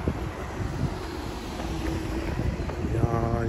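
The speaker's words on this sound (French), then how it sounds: "Désolé du vent." Wind buffets a microphone outdoors in a continuous low roar with gusty swells, and faint speech is mixed underneath.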